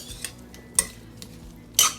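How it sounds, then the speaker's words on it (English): Garlic powder being stirred into food in a pan: a few separate, quiet scraping strokes spaced roughly half a second apart over a low background, with no voices. "sprinkle, then stir to make sure that it gets good and coated"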